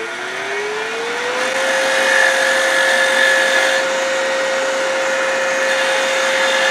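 A wood lathe spinning a pen blank while a skew chisel turns it down, a steady whining motor hum that rises in pitch over the first second, with a light cutting hiss over it, loud and close.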